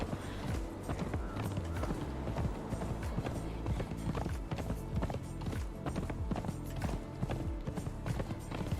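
A horse gallops in the Conan Exiles video game, with steady, rapid hoofbeats drumming in a continuous rhythm at moderate volume throughout.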